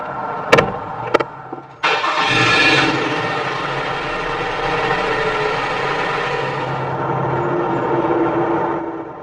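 2018 Toyota Highlander with its 3.5-liter V6: two sharp clicks, then the engine cranks, catches and settles into a steady, fairly loud idle that gradually quiets.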